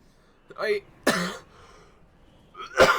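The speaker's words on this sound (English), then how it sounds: "I'm coughing" Three separate harsh coughs, close up, with short pauses between them.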